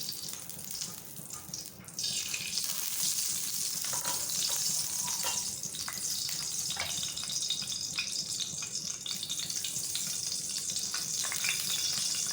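Ghee heating in a pan on the stove for sweet jaggery rice, a steady soft sizzle with a few faint clicks and stirring taps throughout, quieter in the first two seconds before the frying noise rises and holds.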